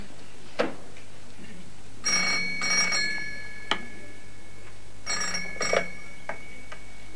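An old telephone bell rings in short double bursts, twice, alone in a quiet room with a few faint knocks in between.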